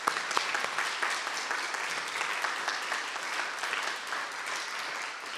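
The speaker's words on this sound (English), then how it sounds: "Let's give them all a big round of applause," Audience applause at a speaker-series talk, a steady wash of many hands clapping at moderate volume, sustained and even throughout without pauses.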